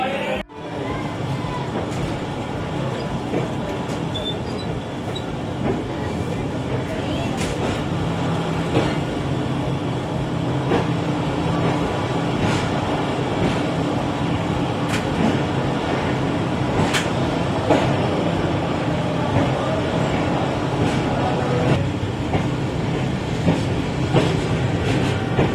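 The 7 Up Tezgam Express passenger train rolls steadily on rails between Multan and Lahore, heard from inside as a continuous rumble with clickety-clack wheel beats and rattling carriages throughout.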